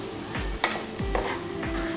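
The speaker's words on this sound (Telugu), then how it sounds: "ముందుగా ఉడికించి పెట్టుకున్న రైస్ ఇందులో వేసి కలుపుకుందాం మనం" Cooked rice is stirred into hot oil in a pan while it sizzles, with a few soft scraping strokes at a steady rhythm, close and fairly quiet.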